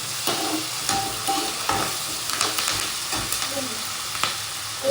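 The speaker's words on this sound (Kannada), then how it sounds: "ನೀಟಾಗಿ ಫ್ರೈ ಆಗ್ತಿದೆ." Chicken with tomato fries in a pan, a steady sizzle broken by repeated scraping stirs of a spoon against the pan, close and fairly loud.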